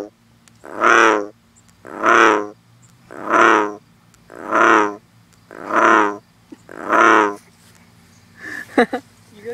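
A frog gives six loud, close croaks, each lasting about a second and spaced at an even rhythm, followed by a brief rustling clatter.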